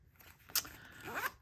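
A zipper runs along the zip pocket on the back of a handmade leather clutch wallet: a brief, close, soft zip with a sharp click partway through, over low background hiss.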